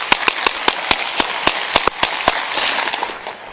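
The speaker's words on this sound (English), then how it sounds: "222 shots fired." Rapid gunshots ring out during a police bodycam encounter, about a dozen sharp bangs in quick irregular succession, loud and close, followed by a noisy, rustling scene.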